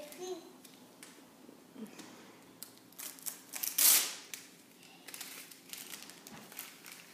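Gift wrapping paper is torn open with scattered crinkles and one loud ripping burst midway, while a child and adults chatter around it.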